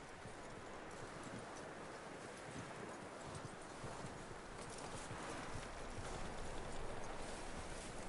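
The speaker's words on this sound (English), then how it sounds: "That looks like a decent horse." Horse hooves clip-clop at a steady walking pace in the Red Dead Redemption video game, fairly close and continuous over a broad rustling, windy outdoor bed, with no talk.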